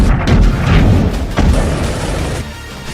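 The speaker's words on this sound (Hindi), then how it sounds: "तोपों से दनादन दागे जा रहे गोलों से पूरे इलाके में भारी तबाही हो रही है।" Artillery shelling in Donetsk province in eastern Ukraine during the Russia-Ukraine war, heard as a loud, continuous deep booming rumble with a sharper blast near the middle that fades slightly toward the end.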